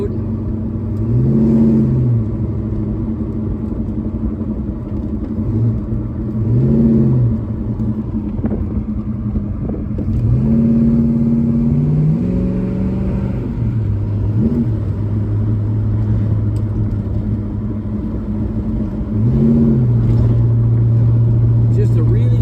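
A 1971 Pontiac LeMans Sport convertible cruises down the road, its engine rumbling steadily nearby and rising in several brief revving swells as it accelerates and shifts, with no talk.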